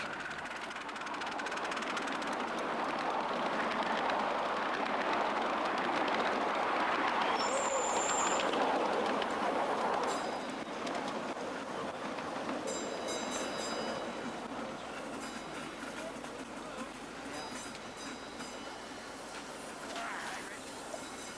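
A 7 1/4 inch gauge miniature railway train runs at the Great Cockrow Railway, a steady rumble and clatter of small wheels on track with faint metallic ticking and a brief high whistle-like squeal, continuous throughout.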